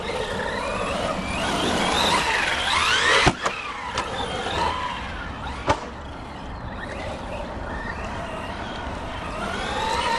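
An Arrma Big Rock 4x4 223S BLX V4 brushless RC truck drives nearby, its electric motor whining up and down in pitch over crunching terrain, with a couple of sharp knocks from bumps or landings before the sound eases off.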